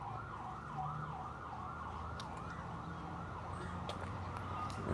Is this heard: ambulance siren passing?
yes